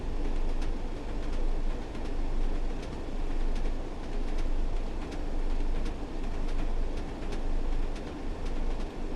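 A Class 101 diesel multiple unit rolls along steadily in Train Sim World 2, with a continuous low engine and running rumble and regular rail clicks throughout.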